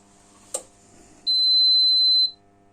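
A Powermat PM UPS 800 uninterruptible power supply gives a sharp relay click, then sounds a loud, steady high beep lasting about a second before falling quiet, with a faint electrical hum underneath.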